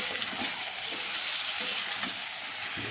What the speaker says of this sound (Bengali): এবার আমি এতে গরম জলটা দিয়ে দেব।